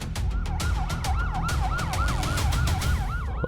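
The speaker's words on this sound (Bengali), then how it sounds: "অ্যাম্বুলেন্স।" An ambulance siren wails loudly and close by in a fast, repeating rise-and-fall pattern, with no voices over it.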